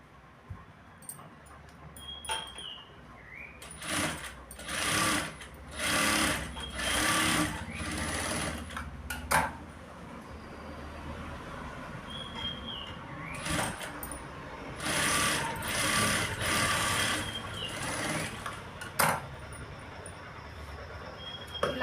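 A sewing machine stitching blouse fabric with a lining layer runs in repeated loud bursts of rapid mechanical chatter, separated by short quiet pauses while the cloth is repositioned, with no talking.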